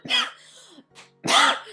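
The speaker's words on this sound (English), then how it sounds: "I literally panic every time I cough now." Two harsh coughs from one person, close and loud, separated by a short quieter breath, with no talking.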